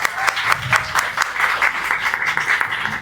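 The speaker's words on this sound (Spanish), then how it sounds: "un aplauso por favor" An audience at a talk on human rights and technology claps together, a dense, even burst of applause lasting a few seconds with a faint voice underneath.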